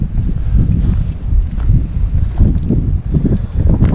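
Gusty wind buffets the microphone at a lakeside campsite in Woodland Caribou Provincial Park, a low rumbling roar that rises and falls in uneven surges, close and fairly loud.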